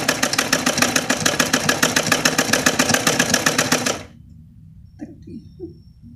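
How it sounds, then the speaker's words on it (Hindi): A sewing machine stitching a fabric mixer cover with lace trim, giving a fast, even mechanical rattle of needle strokes for about four seconds before it stops, followed by faint handling sounds of the cloth. "या फिर अगर हो सके तो इसे मशीन से आप इस तरीके से सिल"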